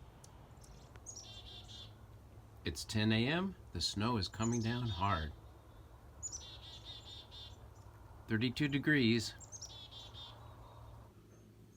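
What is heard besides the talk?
birds chirping outside during snowstorm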